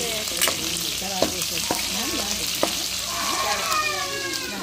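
Chicken pieces fry in oil in a pan for a home-style chicken curry, with a steady sizzle punctuated by scraping stirs and spatula knocks, close and clear, with a little faint talk underneath.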